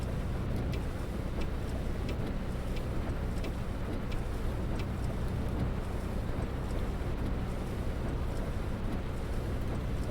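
A MAN Lions Coach third-generation engine in Fernbus Simulator holds steady revs around 1700 RPM in 11th gear, a constant low drone with even rumble and faint hiss, unchanging throughout.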